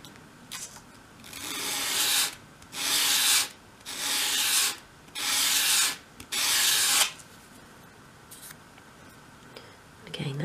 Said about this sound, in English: flat on your sandpaper at a 45 degree angle, and I'm going to do those 5 sweeps again